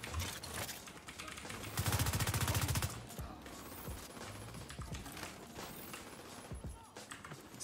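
Gunfire in The Division 2 erupts in a dense rapid automatic burst that peaks for about a second, then gives way to scattered single shots and mechanical clicks with faint distant firefights.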